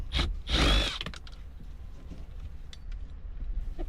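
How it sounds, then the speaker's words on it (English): Screws being worked out with a Phillips screwdriver from the radio trim of a 2002-2006 Honda CR-V, a loud close burst of scraping and clicking early on, then quieter intermittent ticks. "take your Phillips screwdriver and carefully remove them one by one"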